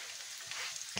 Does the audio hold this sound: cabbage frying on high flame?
yes